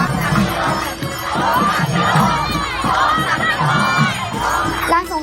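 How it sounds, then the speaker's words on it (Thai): A dense crowd shouts worship chants during a Navaratri festival procession, with loud, continuous overlapping voices and rising cries filling the whole stretch. "เขาก็จะตะโกนบูชากัน"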